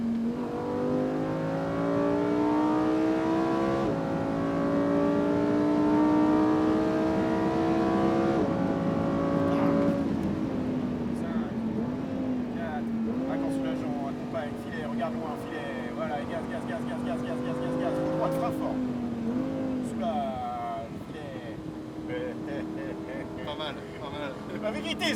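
Lamborghini Huracan Performante with a 640 hp engine accelerating hard around the Fay de Bretagne circuit, loud and close, its engine note rising and falling through the gears for about 25 seconds while a driving coach talks over it.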